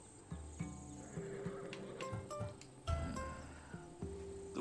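A Skyros horse in Assassin's Creed Odyssey on Xbox One whinnies several times with snorts and hoof clops, close and clear over faint ambient insects.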